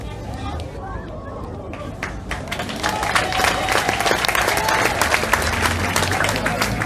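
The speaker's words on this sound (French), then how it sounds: "vos applaudissements s'il vous plaît pour coach Albert" Applause rises from a crowd, growing louder after a few seconds into steady clapping with a busy murmur of voices underneath.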